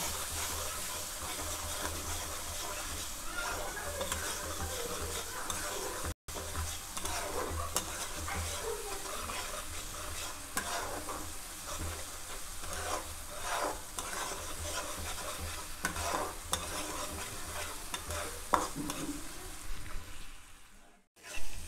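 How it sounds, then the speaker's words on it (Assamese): Spices with chilli, turmeric and salt fry in a pan and are stirred steadily, giving a continuous soft sizzle broken by repeated scraping strokes, close and moderately loud. "এইখিনি মই ভালদৰে লৰাই মছলাৰ গোন্ধটো নাইকিয়ালৈকে ভাজি থাকিম"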